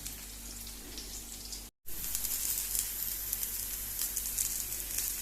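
Goan rawa bhakri, a semolina flatbread, roasts on a hot pan with a steady, close sizzle and crackle; the sound briefly cuts out, then resumes slightly louder.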